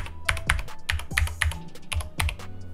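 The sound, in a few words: Corsair K70 MK.2 Cherry MX Speed keyboard keys pressed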